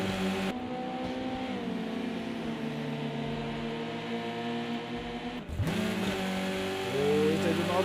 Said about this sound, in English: the exhaust banging away as they come down through the gears